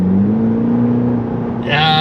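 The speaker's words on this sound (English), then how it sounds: "the exhaust note is still loud" A loud 2023 Cadillac CT4-V engine drones steadily while driving, with a rising exhaust tone as the engine revs toward the end.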